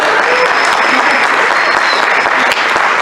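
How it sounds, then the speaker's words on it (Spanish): An audience in a theatre at the Ateneo Porfirio Barba Jaco gives loud, dense, sustained applause that fills the room evenly from start to finish. "un aplauso para ella"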